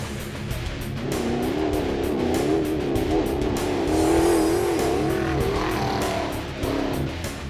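An off-road race truck with a 6.2 liter V8 roars at high speed in third gear over big bumps on a Baja road, its engine droning steadily with a wavering pitch and rattling jolts throughout.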